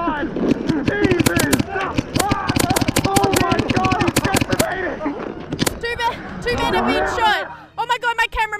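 Rapid, loud gunfire from a game match pitting a special forces soldier against five YouTubers, sharp shots cracking in quick bursts over frantic, overlapping shouting.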